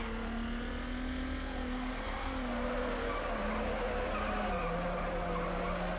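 A Subaru drifts in Need for Speed: Underground on PS2, its tires squealing in a long, steady, loud wail with engine drone underneath, the pitch sliding slightly as the slide continues.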